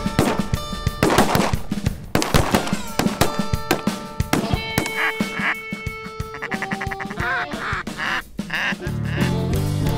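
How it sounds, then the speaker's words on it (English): Ducks quack amid a chaotic mix of rapid popping bursts and electronic tones, loud and busy throughout. "Ducks on the right."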